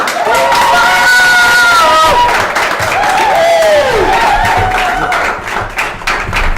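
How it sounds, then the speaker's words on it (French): A conference audience applauds and cheers to welcome a speaker onto the stage, loud and sustained clapping mixed with crowd voices and a few shouted whoops throughout. "accueillez encore une fois, avec une bonne main d'applaudissements, Jim Chubb!"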